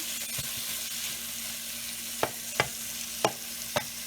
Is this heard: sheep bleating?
no